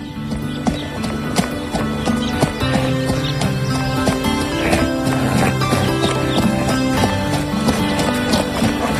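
Rhythmic hoof clip-clop of a horse trotting close by, steady and continuous, with a faint French voice now and then underneath.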